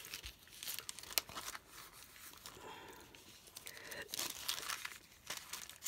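Heavyweight tissue paper used as wrapping crinkles and rustles in irregular bursts, close and soft, with sharper crackles near the start and again after four seconds.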